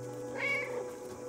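A cat in the video game Stray lets out a single short meow, rising and falling over a quiet steady game ambience hum.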